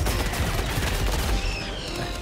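Dense, continuous machine gun fire from the video game Helldivers 2, loud and close, with rapid overlapping bursts sustained across the whole stretch and no pauses.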